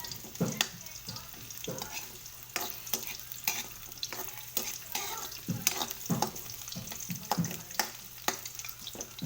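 Ginger added to a hot pan, frying with a soft continuous sizzle while a utensil scrapes and stirs in irregular taps, quiet and close.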